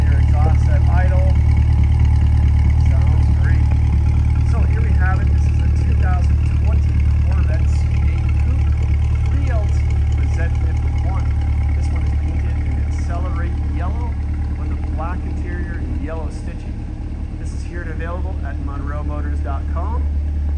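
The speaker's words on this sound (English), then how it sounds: "Here's your LED tail lights and your exhaust at idle." A yellow 2020 Chevrolet Corvette C8 coupe, a 3LT with the Z51 package, idles with a steady, low exhaust drone that holds throughout while someone talks over it.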